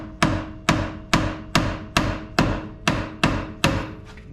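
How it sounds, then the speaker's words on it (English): Nine evenly spaced, sharp metallic hammer taps on a vehicle drive shaft, each a crisp ringing strike that decays quickly, close and loud in a steady rhythm with no talking. "I'm going to use a hammer to tap on this"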